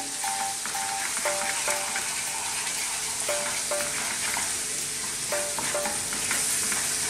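Chicken pieces seasoned with oregano and black pepper frying on very high heat in a pan, a dense continuous sizzle with repeated scraping and stirring clinks of a utensil throughout.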